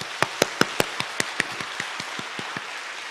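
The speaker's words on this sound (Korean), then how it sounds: "부활하셔서 우리의 생명이 되시는 주님께 감사와 영광의 박수를 올려드리겠습니다" A church congregation clapping together at an Easter Sunday service: sharp, evenly spaced unison claps that start loud, then gradually soften and slow over a few seconds.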